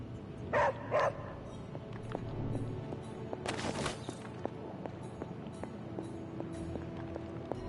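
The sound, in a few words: dog Charlie barking in video game Marvel's Midnight Suns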